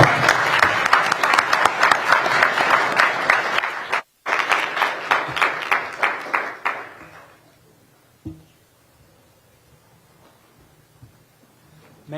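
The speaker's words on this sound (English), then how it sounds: "and a round of applause" Dense audience applause follows a panel discussion at a forum on China, loud and continuous for about seven seconds, breaking off once briefly, then fading to near quiet with a faint thump or two afterward.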